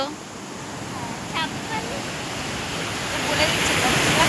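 Sea waves wash onto Mangalore beach in Karnataka as a steady broadband surf roar that swells slightly louder toward the end, with brief faint sounds over the top and no clear talk.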